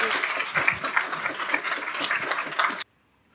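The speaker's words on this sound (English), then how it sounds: "Let's a round of applause." Audience applause at a FinOps X 2022 conference session fills the room as a dense, steady clatter of clapping, then cuts off abruptly into silence.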